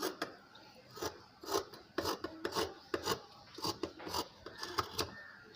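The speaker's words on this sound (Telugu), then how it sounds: "ఇప్పుడు మార్కింగ్ చుట్టూరు కూడా కట్ చేసుకోవాలి." Scissors cut blouse fabric by hand around chalk markings, giving a steady series of close, quiet rasping snips in an even rhythm.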